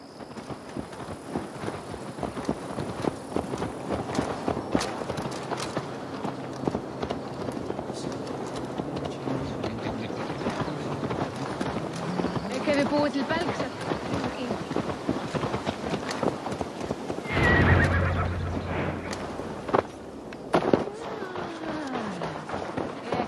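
Horse hooves clopping steadily across the ground in Assassin's Creed Valhalla, a continuous rhythmic gallop over ambient game sound, with a burst of louder movement near the end; voices talk over it.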